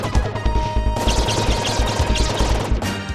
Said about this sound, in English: The graphics and explosions are just, they're just everywhere, and it just makes the game very enjoyable.